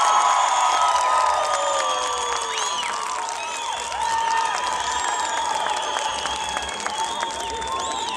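Crowd at an outdoor city day dance contest applauding and cheering for a contestant, continuous clapping with whoops and shouts from a lively audience.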